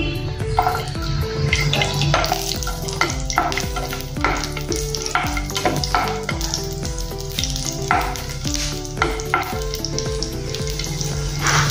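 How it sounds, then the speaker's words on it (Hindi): Loud, busy sizzling of garlic cloves frying in hot oil, crackling steadily throughout, with faint music underneath and no talking. "इसमें हम पहले लहसुन की कलियां डालेंगे। तेल गरम हो गया है"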